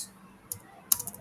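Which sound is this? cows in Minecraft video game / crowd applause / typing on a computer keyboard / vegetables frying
typing on a computer keyboard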